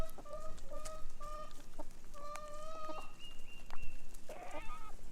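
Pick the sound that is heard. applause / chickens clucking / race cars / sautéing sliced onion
chickens clucking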